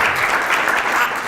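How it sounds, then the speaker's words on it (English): A round of applause rolls through a room at a county commissioners' community meeting, a brief, even burst of clapping. "so we need to give them another round of applause for doing this."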